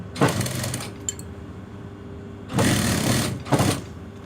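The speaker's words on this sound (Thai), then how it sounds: "เราสามารถเย็บ ลงมาตรงๆได้เลยนะคะ เย็บตามเดิม" A sewing machine stitches a dress seam during a tailor's alteration, running in quick, loud bursts: one at the start, then a longer run and a short final burst, with quiet pauses between.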